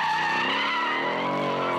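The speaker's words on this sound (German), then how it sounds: "Es gibt kein Auto, was ich nicht quer kriege" Car sliding sideways in a drift, its tyres squealing in one loud, sustained screech close by, with no break across the short burst.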